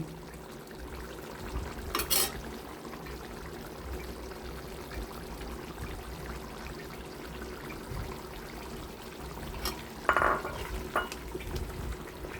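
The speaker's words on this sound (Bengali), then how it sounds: "এটা আবারও আমি একটু ভালোভাবে মাংসের সাথে মাখিয়ে নিব।" Beef being stirred in a pan with ground garam masala of black pepper and cloves for beef bhuna, quiet wet scraping and stirring with a couple of brief clinks against the pan.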